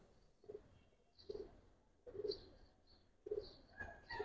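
Giribaz pigeons of the Palla line coo in a steady series of four soft, rhythmic bursts at close range, with no talking.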